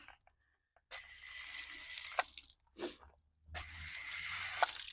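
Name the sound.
running water washing a horse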